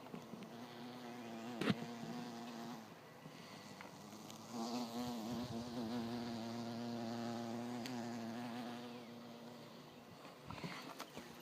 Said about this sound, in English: here's a problem we've got here in Raleigh, is these carpenter bees. They're everywhere.